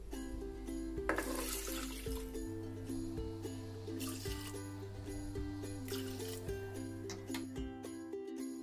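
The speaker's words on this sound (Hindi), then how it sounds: "और 3 कप पानी डालेंगे इसमें हम।" Water runs steadily from a tap, splashing and filling a pressure cooker, with faint clinks and a low hum in the background.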